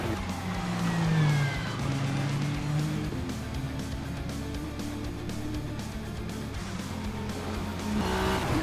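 A race car in a racing video game drives at speed, its engine droning loud and steady with pitch rising and falling as it slows for braking, and a faint whine along with it.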